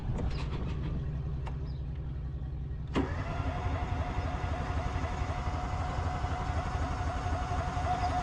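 Work truck engine cranking roughly for a few seconds, then catching and settling into a steady close idle hum.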